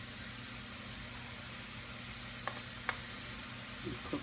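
Food sizzling steadily in a pan with garlic over medium heat, a constant close frying hiss with a couple of brief utensil clinks near the end.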